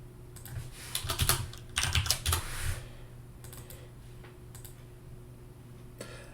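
Fingers type on a computer keyboard to rename a folder, with close, quick bursts of clicking keys that fade into scattered single taps and a lone keystroke near the end.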